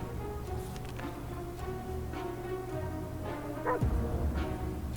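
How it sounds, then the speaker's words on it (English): A dog in the survival video game 60 Seconds! gives a few sharp yips and short barks over a muffled game background, moderately loud, with one louder bark near the end. "I found a dog."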